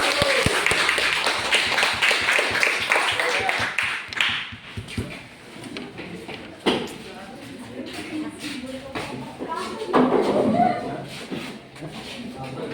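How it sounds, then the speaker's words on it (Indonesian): A classroom group claps for the first group of students, with uneven hand claps and shuffling, tapping and murmuring voices around them, close and fairly loud. "Tepuk tangan dulu buat kelompok 1."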